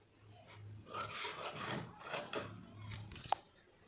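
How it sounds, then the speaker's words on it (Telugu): Scissors cutting blouse fabric, a close, soft series of rasping snips and scrapes in an uneven rhythm, with a faint low hum underneath. "ఇప్పుడైతే కటింగ్ వేసుకుందాం."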